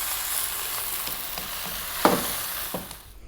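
Broccoli and garlic stir-frying in a pan on high heat, a steady close sizzle broken by a few sharp clatters and scrapes as the vegetables are tossed and stirred.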